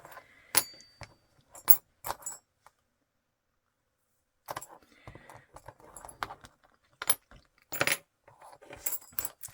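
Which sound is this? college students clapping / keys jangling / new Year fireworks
keys jangling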